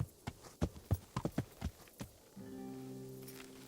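Horse hooves clip-clop in an irregular series of near, distinct steps in Kingdom Come: Deliverance, then a steady low tonal hum takes over.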